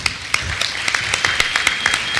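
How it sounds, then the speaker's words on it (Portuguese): Audience in an auditorium at an opening session of an international education seminar breaks into applause, a dense patter of many hands clapping with sharp individual claps standing out, fairly close and steady. "Eu queria pedir uma salva de palmas"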